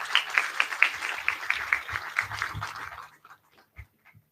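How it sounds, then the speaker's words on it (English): A small conference audience claps briskly at a launch address, with sharp, closely spaced hand claps that thin out after about three seconds into a few scattered, fading claps. "they deserve a round of applause"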